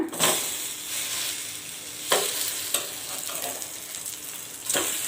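Masala-topped bread toasts in a pan over a medium flame with a constant close sizzle. A few sharper scrapes and bumps break in as the slices are moved and flipped.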